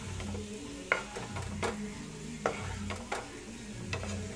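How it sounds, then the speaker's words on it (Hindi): Macaroni being stirred in a pan: a close, steady scraping and clatter of utensil against the pan, with distinct knocks recurring about every second over a low background sizzle; no voices. "अब हम मैक्रोनी डाल देंगे, अब इसे मिक्स करना है।"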